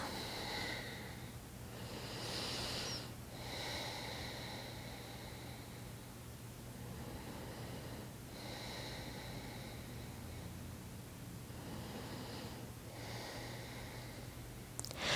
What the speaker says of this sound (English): Breathe full, deep, powerful breaths.